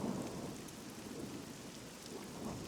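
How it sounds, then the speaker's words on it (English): Steady, dense rain hisses over the sea in the survival game SCUM while deep thunder rumbles beneath it, heard from a motorboat on open water; the downpour is continuous and even, with no voices. "Motorboat, it is raining."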